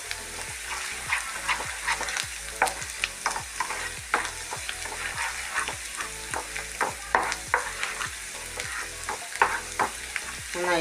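Ginger fries in coconut oil with a continuous sizzle while a utensil stirs in quick, regular scraping strokes, with faint music running underneath throughout.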